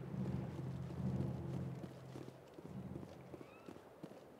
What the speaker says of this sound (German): Ich dachte, es donnert. Dabei schießt er einfach nur ins Wasser.